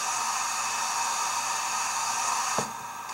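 Cylinder cocks on a sound-equipped Athearn 4-8-8-4 Big Boy Union Pacific 4014 model steam locomotive release a steady, loud, even hiss that holds for about three seconds, with a faint click near the end.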